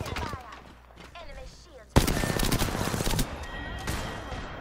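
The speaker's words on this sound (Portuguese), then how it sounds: "Errei todos os tiros." Bursts of automatic gunfire in a round of the battle royale game Apex Legends, with a sharp loud onset partway through followed by dense rapid shots over background game noise.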